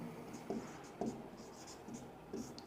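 Chalk or marker strokes on a classroom board during a Hindi grammar lesson, a handful of short scratchy marks spaced about half a second apart, near and faint, with no talking.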